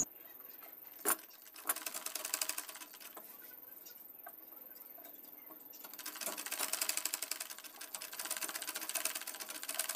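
A sewing machine runs in bursts while stitching 1-inch pleats onto a petticoat, a faint, fast mechanical whirring with a sharp click near the start and a few pauses between runs.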